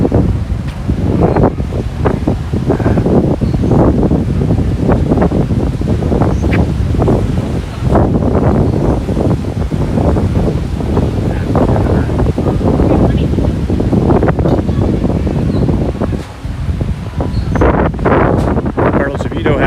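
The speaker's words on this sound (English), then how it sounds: "Very windy." Strong outdoor wind buffets the microphone in continuous loud roaring gusts, with rustling and a brief voice heard under the noise.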